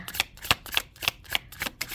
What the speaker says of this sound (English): Sorry, these are loud to shuffle.